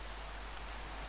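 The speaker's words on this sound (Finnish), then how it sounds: "Tää on kauhea sade päivällä" Rain falls in the Minecraft video game, a continuous, even hiss of raindrops at a steady level with no voices over it.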